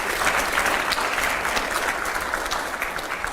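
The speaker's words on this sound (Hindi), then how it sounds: "अगले सवाल के लिए जोरदार तालियां हो यहां पर।" Loud audience clapping at a televised interview event with Nitin Gadkari, a thick wash of hands that stays strong and only eases slightly toward the end.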